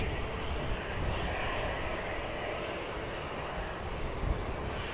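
An EasyJet airliner descends toward Manchester Airport, giving a steady, fairly faint jet roar with a windy rush that holds evenly from start to finish.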